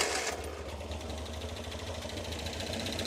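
A car engine with a freshly changed carburetor jet runs at a steady idle, a close, even mechanical chug and hum that holds without voices.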